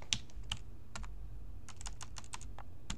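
Keys clacking as a password is typed on a computer keyboard, irregular quick taps with short pauses, close and fairly quiet, no speech.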